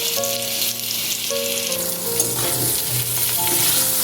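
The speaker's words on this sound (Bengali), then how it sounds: "আলুটা ভাজা হয়ে গেছে, এবার তুলে রাখছি।" Salted, turmeric-dusted potato strips fry in hot oil in a kadai, a dense, steady sizzle up close with occasional stirring scrapes and no voices.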